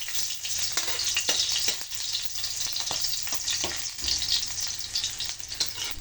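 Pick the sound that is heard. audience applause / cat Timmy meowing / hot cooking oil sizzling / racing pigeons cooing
hot cooking oil sizzling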